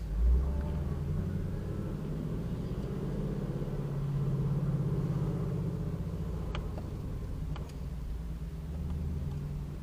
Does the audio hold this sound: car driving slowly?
yes